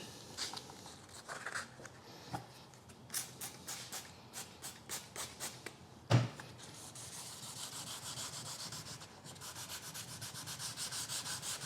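Rhythmic strokes of sanding scrape back and forth across the House of Kolor clear coat on a helicopter tail rotor blade, quiet and close, with a sharp knock midway, then continuous rapid rubbing.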